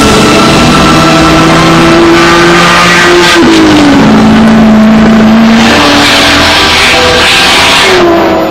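Ford GT40 race car engine revving loudly at close range, its pitch holding, dropping through a gear change and climbing again in a steady, continuous roar with no voices.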